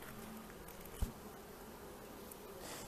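Bees buzz around an open beehive while the frames are being handled, a steady soft low hum throughout with one brief knock partway through.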